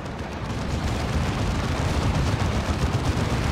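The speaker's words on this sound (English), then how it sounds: "Oh, they went for an autocannon." Autocannon fire from a Warhammer 40k Dawn of War 2 battle pounds out as a dense, continuous roar of heavy shots and explosions, loud and unbroken with no talking.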